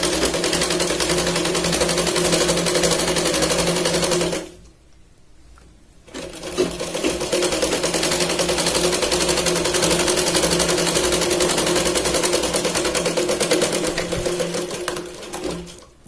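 A sewing machine runs in a fast, steady whirring rattle while stitching the edge of a Katori blouse, stopping briefly for a second or two before starting up again and running on continuously, loud and close.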